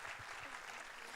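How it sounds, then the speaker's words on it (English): Applause from an audience at a live talk event, a steady wash of many hands clapping at a moderate, fairly distant level throughout. "Please, let's give her another powerful round of applause."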